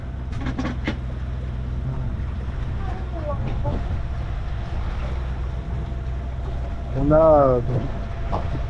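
A boat engine at 1800 rpm hums at a steady, even pitch on a flat calm, windless sea, a low continuous drone with brief voices and knocks on top.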